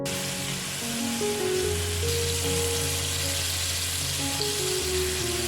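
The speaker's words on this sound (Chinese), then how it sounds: "将鸡块炸至金黄色，像视频中这样，就可以取出了" Chicken pieces deep frying in hot oil until golden, a steady dense sizzle and crackle close up, continuous and fairly loud with a faint low hum underneath.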